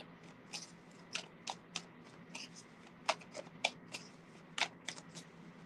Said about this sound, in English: Saw me shuffle them cards